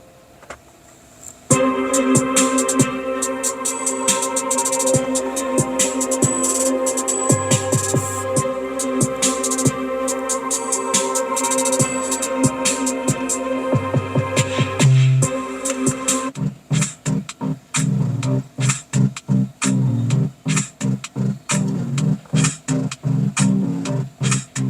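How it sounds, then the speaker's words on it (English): Royalty-free music playing through car speakers driven by an Android AC8227L head unit, heard from the driver's seat: loud, full band with steady beat, turning to choppy rhythmic stabs near the end, no talking. "I'm going to play some royalty-free music to check the sound."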